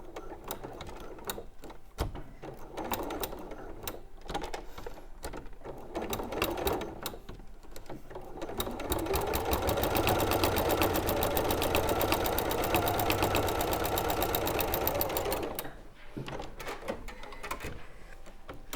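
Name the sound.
sewing machine topstitching around the outside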